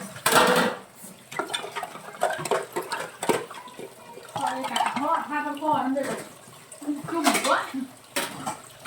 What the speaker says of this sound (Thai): ล้างจานนะคะล้างจานนี่เปื้อนนะ